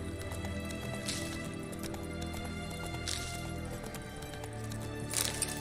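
Hooves of the horse Roach clip-clopping in The Witcher 3, a steady even gait over quiet ambience with a few louder hoof strikes toward the end.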